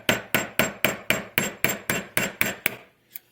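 Hammer blows tap a drill bit to push the shaft out of a BMG extruder gear held in a vise, ten evenly spaced sharp metallic strikes followed by a pause and a lighter final tap, close and loud.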